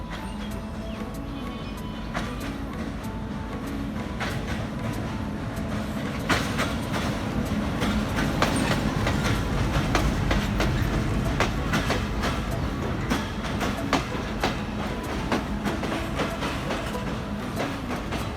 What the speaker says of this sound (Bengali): দেখতেই পারছেন ধীরে ধীরে ট্রেনটি প্ল্যাটফর্মের প্রবেশ করছে।